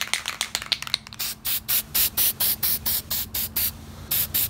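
A guide coat goes on during a Rustoleum paint job, laid down in about a dozen short, even spray-can bursts of hiss in a quick rhythm, close and fairly loud.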